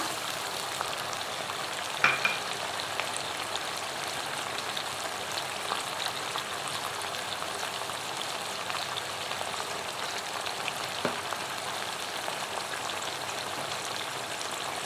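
Blended tomato goes into ground onions frying in a pan for a kaleji (liver) curry, giving a steady, close sizzle with one brief splash near the start before the crackle settles back to an even hiss.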